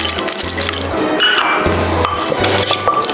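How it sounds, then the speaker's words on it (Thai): Vegetables tossed with dried shrimp and roasted peanuts in a bowl, giving repeated close clinks and soft wet squishes in an uneven mixing rhythm, with no talk. "แค่คลุกก็พอแล้วสำหรับขั้นตอนนี้"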